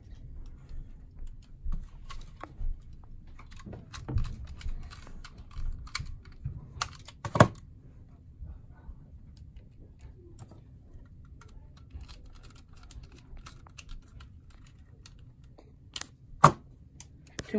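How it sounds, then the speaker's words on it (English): Screws being driven into an IBM ThinkPad T60 laptop, heard as quiet, irregular clicks and ticks from a screwdriver at close range, with a few sharper taps spread across a low background hum. "let's put the screws in."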